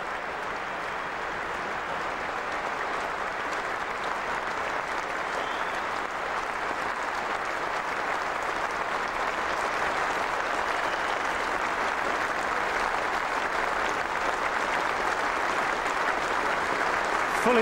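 A Lord's cricket crowd, MCC members among them, gives a standing ovation at a Test match between England and South Africa: sustained, even applause from many hands that holds steady and swells slightly.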